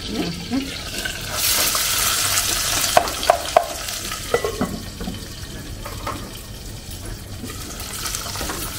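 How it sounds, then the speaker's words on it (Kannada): Hot oil sizzles steadily as spices, cumin and curry leaves are tempered in a clay pot, punctuated by several scraping and knocking stirs against the vessel. "ಮಣ್ಣಿನ ಪಾತ್ರೆಗೆ ಹಾಕಿದ್ದೀನಿ ಒಗ್ಗರಣೆ"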